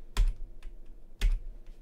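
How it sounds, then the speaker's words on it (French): Two sharp, distinct keypresses on a computer keyboard, about a second apart, with a faint tap between them, used to move pieces in an online chess game; quiet room, no talk. "Je déplace avec le clavier, j'espère que ça fait pas trop de bruit."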